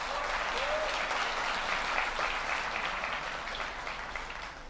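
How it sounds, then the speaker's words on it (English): Conference audience at Flutter Conf India breaking into sustained applause, a steady dense wash of clapping from a large crowd that gradually fades toward the end. "please go ahead and give yourself a big round of applause"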